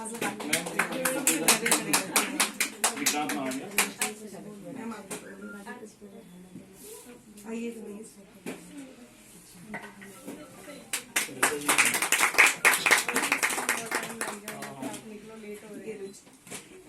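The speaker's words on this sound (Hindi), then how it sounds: "इनके लिए प्लीज एक बार जोरदार तालियां बजाइए।" Clapping from the audience at a women's award ceremony in Chandigarh comes in two bursts of brisk, crisp applause separated by a quieter stretch, with a speaker talking over and between them.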